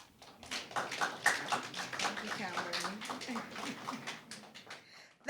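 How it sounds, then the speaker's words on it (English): Applause for a student after a semifinal presentation at an impromptu speaking competition: dense, steady clapping from a room audience, fairly close, with some voices mixed in. "Give her a round of applause, please."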